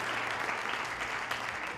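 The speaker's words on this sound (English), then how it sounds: "You just edited in people clapping." Canned audience clapping dropped into a Diablo II Resurrected gameplay session, a steady dense wash of many hands held at an even level for under two seconds, with no voices over it.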